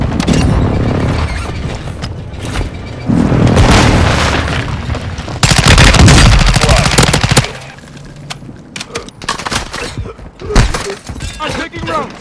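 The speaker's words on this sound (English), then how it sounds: "Requesting close air. Target marked." Close air support strike in Warzone 2 unleashes heavy booms, rapid gunfire bursts and shattering impacts, loud and dense at first, then thinning into scattered shots and thuds, with voices speaking over the combat.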